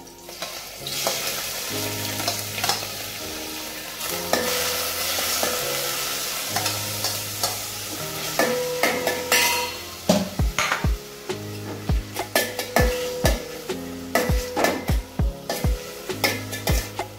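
Prawns frying in a pan for a Goan prawn and okra curry: a close, constant sizzle with frequent sharp clinks and scrapes of a spoon against the pan, over soft background music.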